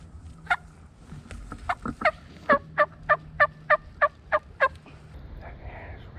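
Wild turkey gobbling in an Iowa field by a creek during a spring hunt: a rapid series of about nine sharp, evenly spaced gobbling notes, clear and moderately near, over quiet outdoor ambience.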